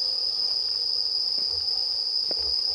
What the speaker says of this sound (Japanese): 最近ってさ、 うん、 スズムシの音って聞こえるの？ これスズムシちゃいますの？